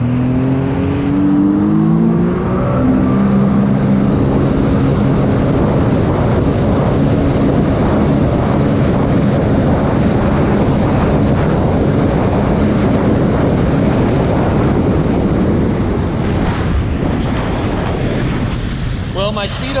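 A 2012 Sea-Doo RXP-X 260 jet ski at full throttle, a loud sustained engine roar blended with heavy wind buffeting and rushing water spray, constant and close throughout.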